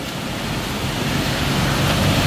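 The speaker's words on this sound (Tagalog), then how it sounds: "Yan ang malaking ilog namin dito." Rushing water of a large river at a picnic spot with cottages, a steady broadband wash filling the whole stretch without pause, close and fairly loud, no voices over it.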